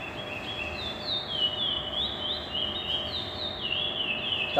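A recorded curió bird sings in the praia clássico style, a faint series of thin whistled notes sliding up and down, repeated in phrases over a steady hiss of background noise.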